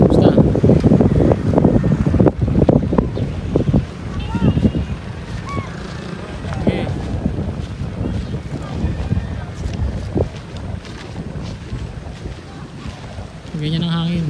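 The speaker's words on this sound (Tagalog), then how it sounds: "Ganyan ang hangin, hindi diretsong habagat." Gusty wind buffets the microphone outdoors while a small square kite is flown, with roaring, uneven rushes through most of the stretch and people talking intermittently over it.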